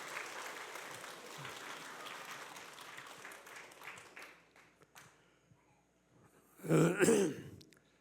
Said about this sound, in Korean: 먼저 우리 박수로 우리 목사님 맞이하도록 하겠습니다